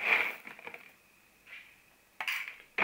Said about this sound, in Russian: накладывается туда